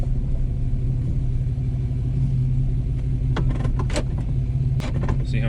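A high school sport truck engine holding a steady low rumble during a stall test, loud and close throughout, with a few sharp clicks and knocks toward the end.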